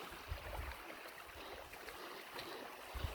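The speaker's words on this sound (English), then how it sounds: "the amazing sound of flowing rivers or creeks" Steady water flow from a river or creek along the Mt Nangar walking track, heard as a faint, continuous broadband rush with no voices.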